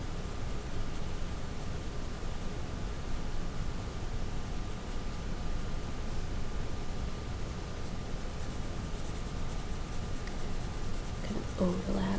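A pencil shades a skull still life on toothy paper, making a steady, continuous soft scratching and rubbing hiss that runs throughout at a moderate, even level.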